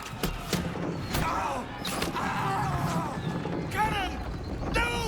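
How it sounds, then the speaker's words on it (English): Cannon blasts booming in a Baldur's Gate III battle against a crowd of goblins at a gate, heavy thuds landing amid clanging combat and shouting voices throughout. "Cannon!"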